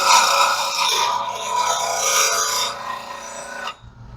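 Harsh continuous rasping as a lathe tool bit is sharpened, loud and close for several seconds before it tapers off and stops abruptly near the end.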